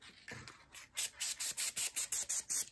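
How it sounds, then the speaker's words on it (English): Quilting spray is sprayed onto fabric in a quiet, rapid series of about a dozen short, even hissing bursts, close by, with no talking. "I'm just using quilting spray."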